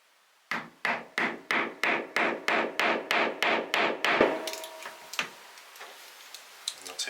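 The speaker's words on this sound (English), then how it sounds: "then we can hammer this through" Twelve evenly spaced, sharp hammer strikes drive a diamante rivet through fabric with a hand tool set, close and ringing, followed by a few scattered knocks and handling sounds.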